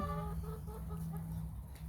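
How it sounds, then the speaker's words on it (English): Chickens on a farm cluck close by in a quick run of short, throaty calls over a low steady background hum. "We have just under 30 chickens at this point."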